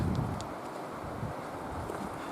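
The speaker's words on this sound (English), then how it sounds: "I hear the noise that the wind is making in the trees." Wind blows through trees on an outdoor walk, a steady soft rushing broadband noise with some microphone buffeting, continuous and unbroken, with no voices.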